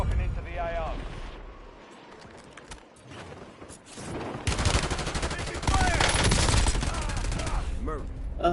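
Gunfire in Warzone, rapid shots and bursts that grow louder and denser halfway through, heard under and between voices and game radio chatter.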